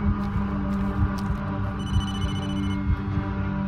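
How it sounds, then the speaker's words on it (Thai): A phone rings in the horror video game Blair Witch, a repeating electronic trill over a low ambient hum and throbbing game background. "โทรศัพท์มานะครับ"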